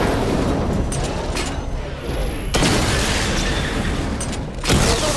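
Batmobile weapons in Batman: Arkham Knight pound targets during a simulation, dense booming blasts and mechanical rumble running continuously, with two abrupt loud impacts cutting in partway through.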